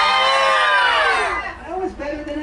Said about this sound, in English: we're all going to raise our hands and girly scream